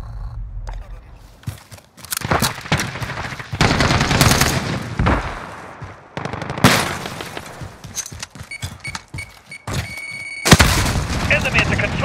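Intense gunfire in Call of Duty: Modern Warfare, with bursts of automatic fire, heavy booms and crashing impacts from close by, plus shouted voices mixed into the chaos.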